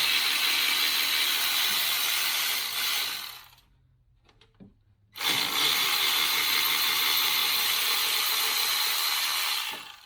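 A ratchet wrench undoing bolts on the AC unit of a Land Cruiser with a 3FE engine, loud close rapid clicking in two long bursts separated by a brief quiet pause.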